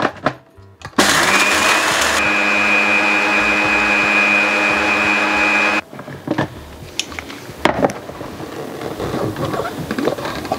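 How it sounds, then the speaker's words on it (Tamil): A kitchen mixer grinds pepper, coriander, cumin and dried chilies into powder with a loud, steady whir for several seconds. It then stops, leaving scattered clatter and handling sounds. No one speaks. "முதல்ல இந்தலா பொருட்களையும் சேர்த்து நல்ல பவுடரை அரைக்கலாம்."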